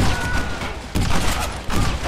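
Gunfire in Red Dead Redemption during a gate assault, with heavy overlapping shots in thick bursts and a couple of sharp booming volleys cutting through, loud and close over about two seconds.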